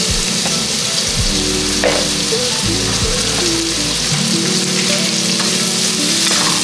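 Onions sizzle loudly in butter and bacon fat for a cheesesteak, a dense, even frying hiss close up with a few stirring scrapes and a low hum underneath, no voices.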